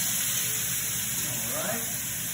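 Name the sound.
marinated pork sizzling and popping in a pan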